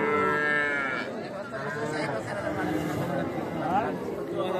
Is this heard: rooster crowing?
no